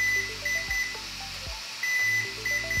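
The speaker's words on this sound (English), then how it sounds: "You'll know the update is complete when the series of 4 beeps switches to a distinct rhythm of 5 beeps" A DJI M300 drone emits short, repeated high electronic beeps in a regular rhythm during a firmware update, faint against a steady background hum and soft musical tones.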